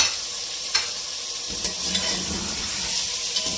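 Chicken frying in a pan while pulao is cooked, a close steady sizzle with stirring and scraping throughout, a few sharp utensil clicks, and the frying getting a little busier partway through.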